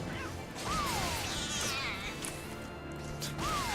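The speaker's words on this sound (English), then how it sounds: "I love the noise the cats make as they die." Cats crying out as they die in the game Final Fantasy XIV: two rising-then-falling meow-like wails, one early and one at the end, over busy combat clatter and impacts.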